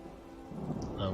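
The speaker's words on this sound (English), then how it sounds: "Rain is lovely." Rain and rolling thunder in the video game Skyrim, a steady wash of rainfall with a low rumble swelling louder toward the end of the short stretch.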